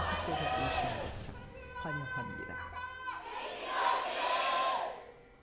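Stadium crowd at a League of Legends esports match cheering for one team, a broad continuous roar that swells and fades across several seconds with shouting voices mixed in.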